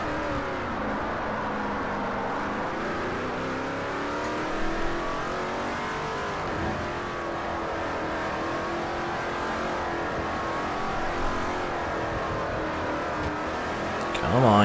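Race car engines from Forza Motorsport 4 drone and rev continuously through a championship series race, a loud steady engine roar with shifting pitch as cars accelerate around the track.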